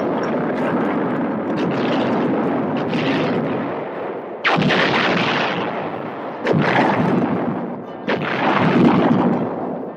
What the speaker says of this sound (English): It mounts a 152-millimeter gun, which also launches the Shillelagh missile.